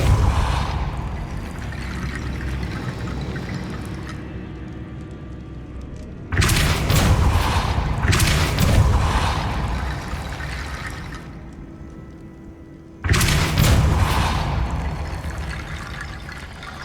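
Depulso force spell cast in Hogwarts Legacy, heard as two sudden loud bursts of rushing, booming magical energy that each fade into a lingering whoosh over a low ambient game soundscape.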